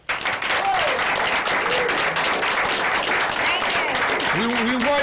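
Loud, steady applause from a large studio audience fills the whole stretch, with a voice speaking over the clapping toward the end.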